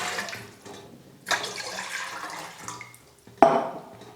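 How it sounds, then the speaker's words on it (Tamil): Water is poured into a large cooking pot, about a litre going in for ragi koozh, a steady splashing stream with a short louder gush near the end, close by. "இப்போ இந்த பாத்திரத்தில் 1 லிட்டர் அளவுக்கு தண்ணி சேர்த்துக்கிறேன்."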